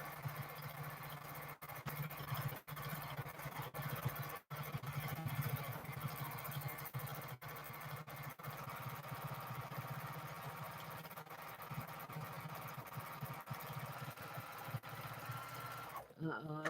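Domestic sewing machine running steadily while quilting edge to edge, a close continuous mechanical whir with a few brief stops and restarts, with talking heard over it.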